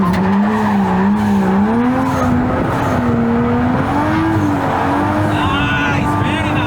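An R33 drifts with its tires squealing loudly, the wavering screech riding over a close, continuous engine roar for the whole stretch.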